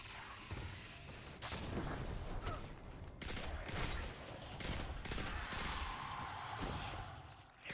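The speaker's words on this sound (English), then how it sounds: "Burst fire rifle." Burst-fire rifle shooting in the video game Destiny 2, repeated bursts of gunfire running steadily through the whole stretch with dense crackling impacts and no talk over it.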